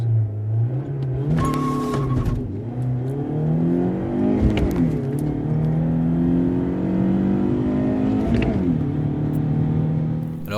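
A BMW E36 318iS four-cylinder engine pulls through the gears, its rasp rising in pitch under acceleration, dropping at each shift and climbing again, loud and close with no talking.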